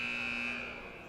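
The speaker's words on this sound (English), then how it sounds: "the buzzer's going to sound" A basketball game buzzer in a championship game sounds as a steady, loud electronic tone held for the whole moment, fading slightly toward the end, with arena noise beneath.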